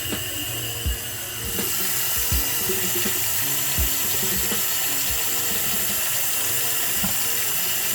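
Water rushes steadily through household plumbing during a leak test, a continuous hiss and flow with a few low knocks and clunks scattered throughout, fairly close and with no talking.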